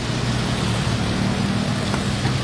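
Heavy rain during a typhoon beside a flooded floodway, a steady dense roar of water with no letup and no talk.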